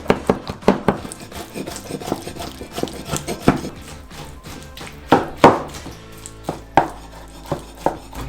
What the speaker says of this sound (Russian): Нам из этих хвостов нужно сделать котлеты, поэтому просто их нарезаем.